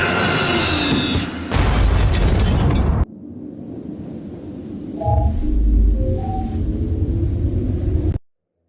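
Cartoon explosions from The Amazing World of Gumball, with a loud booming burst followed by a second blast and rumbling debris. An abrupt cut leads into a quieter stretch with tonal musical accents and a low rumble underneath.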